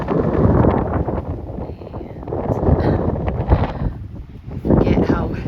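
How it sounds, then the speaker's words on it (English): Strong wind buffets and roars in uneven gusts on a mountaintop on the Appalachian Trail, close and loud, with rumbling bursts against the microphone. "forget how windy it is on the top of Balds"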